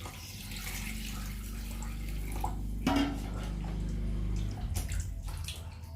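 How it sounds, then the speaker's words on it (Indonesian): Warm water runs continuously from a tap as a fish is washed clean of mud smell and slime, a steady splashing stream with a brief clatter partway through. "ini aku mau cuci bersih dulu si ikannya pakai air hangat yang tadi udah aku masak"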